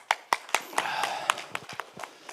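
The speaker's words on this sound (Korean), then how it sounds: "여러분 힘찬 박수로 맞이해 주십시오" An audience at a Gyeonggi Province resident budget talk concert claps to welcome Governor Lee Jae-myung, a sparse run of separate, fairly close hand claps with uneven spacing.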